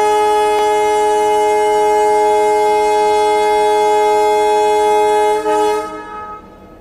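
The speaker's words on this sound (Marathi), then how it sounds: "आता रेडी व्हा आपल्या EMDची हॉकिंग ऐकायला" An EMD diesel locomotive horn sounds one long, loud, steady chord for about five and a half seconds, then cuts off and trails away. A brief click comes near the start.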